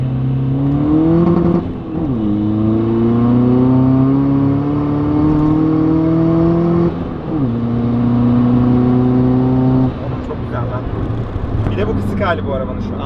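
A big-turbo diesel VW Polo making over 300 horsepower roars as it accelerates hard through several gears, pitch climbing steadily then dropping at each shift, loud and close from inside the cabin.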